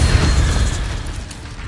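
Incendio fire spell cast in Hogwarts Legacy on PS5, a loud, dense burst of roaring low rumble that rolls on and slowly eases off over under two seconds.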